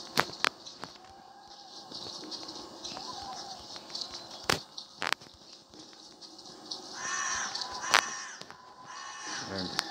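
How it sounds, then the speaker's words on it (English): Crow-like caws from a bird in the Slenderman Rise Again field level, a few harsh calls cutting through a dense ambient game soundscape with sharp clicks and bursts, under light talk. "Random bird sound."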